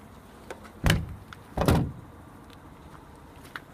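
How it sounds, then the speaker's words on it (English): A school bus passenger door swung fully open and then shut, two close, solid mechanical clunks less than a second apart, followed by faint rattles and clicks in an otherwise quiet setting. "you just open the door all the way and then close it"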